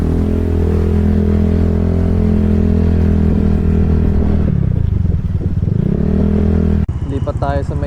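Motorcycle and vehicle engines on a ro-ro ferry deck as vehicles roll off, with a loud, continuous low idling drone. Pitch dips and shifts partway through, then the sound changes abruptly near the end.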